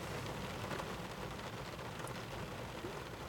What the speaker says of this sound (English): So it's raining, obviously.